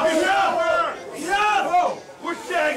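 Wrestling crowd at an AWF Crossfire independent show roaring and yelling in rising and falling waves for a wrestler, with shouted voices standing out over the steady din throughout.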